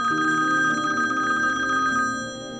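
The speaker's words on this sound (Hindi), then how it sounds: "इस पर किसका फोन आ गया?" A telephone rings close by in an indoor drama scene, a steady electronic ring with a bright trill that holds for about two seconds and then fades.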